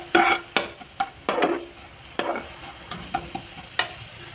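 Sidol and vegetable stems frying in a pan, with repeated sharp scrapes and knocks of a spatula over a sizzling bed of oil, stirred in an irregular rhythm close by, with no talking.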